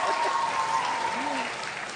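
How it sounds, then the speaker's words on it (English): Audience applause for teachers at a youth semi-final competition, a loud, continuous crowd clapping with a voice briefly speaking over it. "I would love to give those teachers a round of applause"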